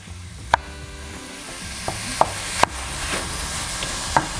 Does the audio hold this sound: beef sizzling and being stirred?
yes